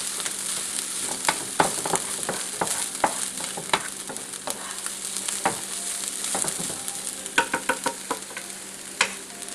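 Chicken fried rice sizzles steadily in a pan over the fire, with sharp scraping and clacking stir strokes scattered throughout, close and fairly loud, with no talking.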